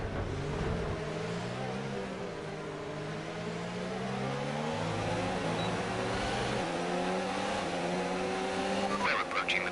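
An F1 car engine in F1 2019 career mode at Belgium, running in another car's slipstream: a sustained high whine with rising and shifting pitch through gear changes, and a faint voice under it.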